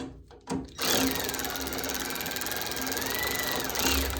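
Power tool driving bolts into a US General 34-inch six-drawer service cart, a steady loud whirring drone that starts after a couple of short bursts and runs on without a break.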